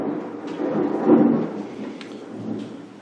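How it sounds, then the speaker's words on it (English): Thunder from a Midwest spring thunderstorm rolls through as a deep, swelling rumble that peaks midway, with rain hissing underneath. No voices are present. "and now we have a thunderstorm, so sweet relief"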